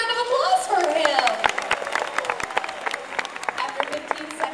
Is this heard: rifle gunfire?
no